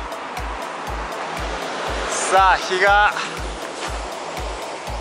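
Surf washing steadily along an Okinawa coastline at dawn, heard as a constant broadband rush, with regular low thuds from a runner's footsteps on an ultramarathon and someone speaking briefly over it.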